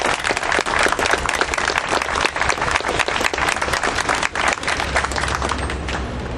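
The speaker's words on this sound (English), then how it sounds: "And I hope you give a big round of applause for Mr." Loud rally crowd applause greeting a speaker at an outdoor political rally in Harrisburg, Pennsylvania, dense continuous clapping filling the whole stretch, close and steady without letting up.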